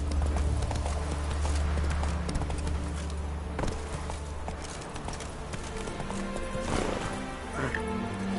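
Hooves of a horse trot in the Witcher 3 video game, a steady near clip-clop rhythm with a brief whinny, under game music and character voices talking.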